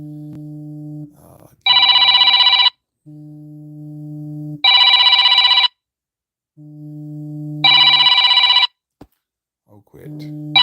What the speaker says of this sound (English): That was an incoming call.